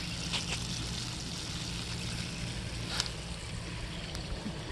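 Water runs through an RV sewer hose on a Pleasureway camper after a gasket fix, a continuous low rushing flow with a few faint clicks and knocks.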